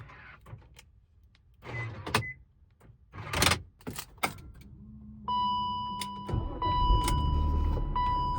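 A 1997 BMW E39 528i with a wireless remote key unlocks with clicks and clunks of the locks, the trunk pops open, then it relocks, followed by a sustained electric whine and hum close by.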